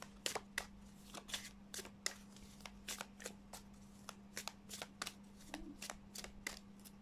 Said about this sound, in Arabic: نسحب ثلاث كروت آه، نسحب الكارت التاني تالت ناخد ده